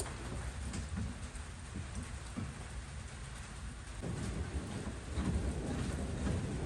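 Steady rain with low rumbling thunder during a thunderstorm, heard from a garage where a two-door Toyota KE30 is being worked on; a continuous wash with a heavier swell of rumble near the end, no talking.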